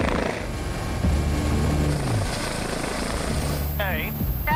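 An air ambulance helicopter flies to a crash scene, its rotor and engine making a steady, loud drone throughout, with voices talking over the noise.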